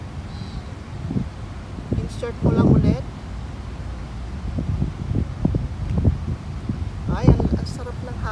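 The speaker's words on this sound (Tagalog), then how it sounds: "Ang lakas ng hangin dito sa park." Strong wind gusting through a park in the early morning, a steady breathy rush buffeting the microphone, with people talking briefly over it.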